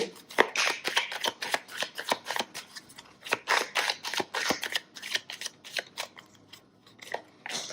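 Oracle Belline cards are shuffled by hand in a quick series of crisp, close riffling snaps, each burst short and sharp with brief pauses between.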